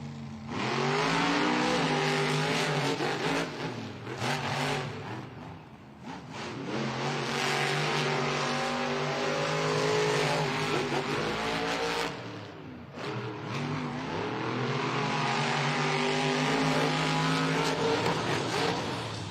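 Vendetta monster truck engine at a Monster Jam stadium show, loud sustained revving with rising and falling surges and brief dips between bursts, heavy and close, with no talk.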